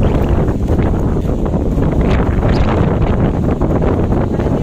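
Strong wind on a Boracay beach roars steadily across the microphone, a loud continuous buffeting rush with no pauses.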